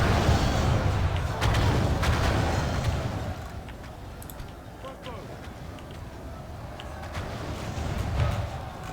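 Artillery fire in the Total War: Warhammer strategy game, with distant booms and rumbling battle noise over a continuous backdrop while someone talks throughout.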